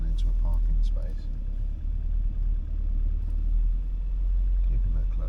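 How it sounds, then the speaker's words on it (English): Low steady rumble of a car engine as the car creeps slowly in reverse into a parking space, a continuous close hum with faint interior sounds and a voice speaking over it. "Really slow, just reversing into a parking space."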